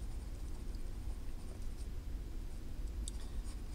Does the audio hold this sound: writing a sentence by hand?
yes